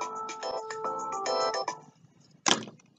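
A telephone ringtone plays a bright, melodic series of beeping tones for about a second and a half, then stops, followed by a single sharp knock or click.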